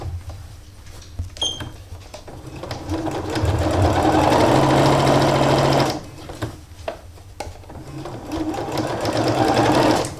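Domestic sewing machine top stitching around the edge of fabric for a bag, a steady whirring hum that runs in bursts, with short pauses between runs and a close, loud motor drone.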